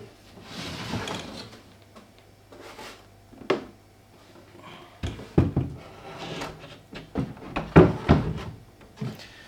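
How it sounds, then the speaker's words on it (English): A wooden drawer is fitted onto two slides in a cabinet, with scattered knocks, scrapes and sliding thumps that grow louder toward the end, and no voices. "Now I need to put the drawer in."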